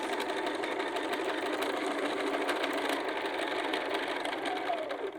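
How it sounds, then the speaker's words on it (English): A sewing machine runs steadily up close, back tacking across the width of a pocket hem with an even, continuous mechanical whirr and needle chatter. "So I'm just back tacking the width of the hem, but you can do whatever you feel comfortable with."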